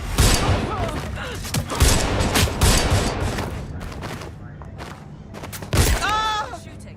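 Rapid bursts of gunfire in Watch Dogs: Legion, loud and close, with repeated volleys and heavy thumps packed over the whole stretch and a brief electronic tone near the end.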